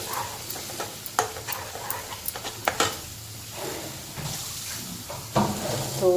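Brinjal masala with salt and jaggery being sautéed in a pan: intermittent spatula scrapes and clicks over a soft, low sizzle, close by, with a stronger burst of sizzling near the end.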